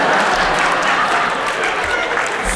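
An audience at a stand-up comedy concert claps steadily for a few seconds, a dense, even patter of many hands filling the room without a break.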